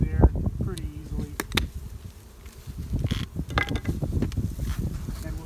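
Honey bees buzzing around open hives during a beekeeping hive check, a close droning hum of many insects mixed with knocks and clatter from handling hive boxes and lids.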